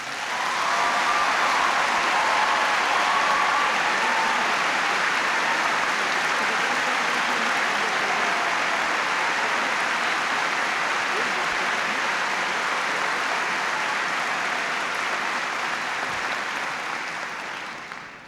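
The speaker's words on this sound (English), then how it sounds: "I think that applause is your welcome, your first welcome" Sustained applause from a large audience in Cincinnati greeting President Clinton in 1996, a dense steady roar of clapping that holds at full strength throughout before tapering slightly at the end.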